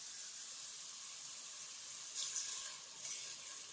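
Water poured into a hot pan of pork rouelle (pork shank slice), giving a steady, fairly quiet sizzle with a brief louder hissing burst as the liquid hits the pan.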